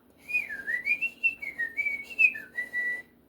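A clear, high whistled melody glides up and down in a continuous tune for a few seconds, with no voices.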